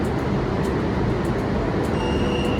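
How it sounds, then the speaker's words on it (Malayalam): A train passes close by in a loud, continuous rumble and roar that holds steady throughout, with faint higher rattles on top and no voices. "ട്രെയിൻ പോകുന്ന"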